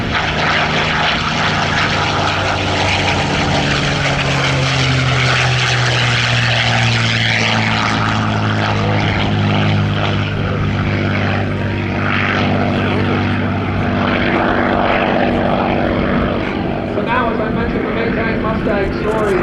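A P-51 Mustang propeller airplane flies at an airshow in Geneseo, New York, with a loud, sustained engine drone whose pitch slowly shifts as it passes. A commentator speaks over it.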